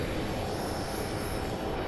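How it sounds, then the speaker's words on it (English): A FedEx MD-11 jet arriving at Phoenix Sky Harbor makes a dense, steady engine rumble and whoosh that fills the short stretch evenly, with no voices. "We have a FedEx coming in. I forgot the number of it. There's going to be an MD-11"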